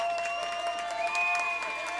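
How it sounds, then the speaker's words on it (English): High school baseball crowd at a regional semifinal clapping and cheering for the Raiders, a steady stream of applause with scattered shouts throughout. "The people from Grayson are going to come to their feet right here and cheer on the Raiders."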